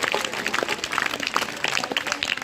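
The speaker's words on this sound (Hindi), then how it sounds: "सभी स्वामी जी महाराज के लिए जोरदार तालियां बजाएंगे।" Audience applauding to honour Swami ji Maharaj's birthday at a Gurukul gathering, a steady dense patter of many hands clapping together at moderate loudness throughout.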